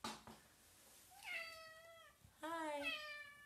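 An indoor house cat gives two drawn-out meows, close by and fairly quiet, with a short sharp sound just before them.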